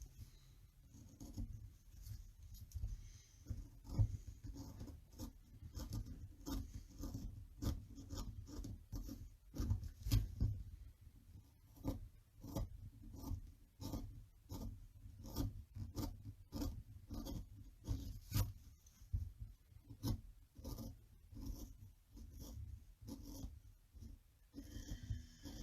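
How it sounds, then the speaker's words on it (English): A small wood carving chisel cuts wood on a dragon carving, making quiet, close scraping and slicing strokes in an irregular steady rhythm, faint and without talk. "With that, we're going to use a much smaller chisel."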